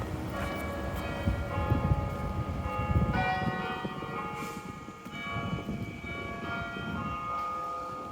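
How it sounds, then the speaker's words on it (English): Church bells ring loudly from a basilica tower on a church built in 1749, heard downtown on a summer day: a steady, continuous peal of overlapping tones that carries through the whole stretch over faint street noise. "The bells up in the Basilica Tower are ringing loudly."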